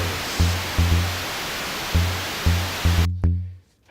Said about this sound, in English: if I plug this directly into my mixer, you just hear noise